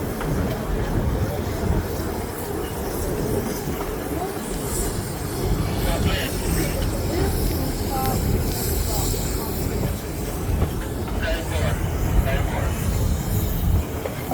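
A passenger train on the plantation railway at St Nicholas Abbey, Barbados, gives a steady, close rumble and rattle of wheels and cars, continuous and fairly loud throughout.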